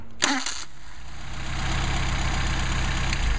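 A Mercedes 190SL engine with Solex carburetors fires up with a sharp starter catch, then settles into a steady, close, even idle that holds through to the end.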